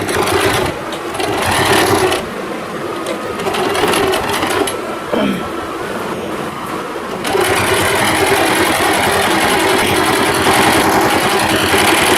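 An electric sewing machine stitches fabric for a lehenga and dhoti outfit, running in steady close whirring bursts with a brief pause near the start and a longer slowdown midway before resuming.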